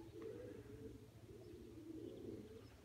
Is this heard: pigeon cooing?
yes